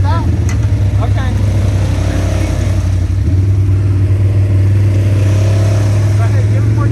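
A CFMOTO ZForce 950 side-by-side engine drones loud and close as it revs while pulling, holding a steady low rumble throughout. Voices can be heard faintly beneath it.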